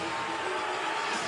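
Basketball arena crowd roaring in reaction during a college men's game between Arkansas State and Southern Miss, a dense, steady wall of cheering and noise filling the whole moment without a break.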